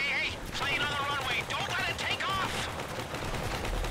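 Gunfire rattles almost continuously in a GTA Online heist, with dense bursts of shots and explosions, while a voice speaks over the action.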